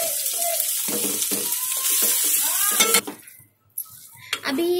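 Spiced boiled potatoes for masala dosa are stirred in a pan, a spoon scraping and clinking against metal over a soft sizzle, with a few sharper knocks and a brief quiet pause, close by.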